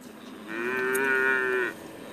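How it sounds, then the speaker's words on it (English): A Florida Cracker cow lets out a single long, loud moo, a steady drawn-out bellow of more than a second that rises slightly, then stops, with no talking. "Watch out, the cows are on the move"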